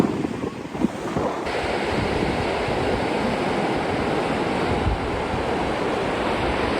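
Small waves washing onto the beach at Órganos on Peru's north coast at low tide, a steady close wash of surf mixed with heavy wind buffeting the microphone, continuous and loud throughout with no talking.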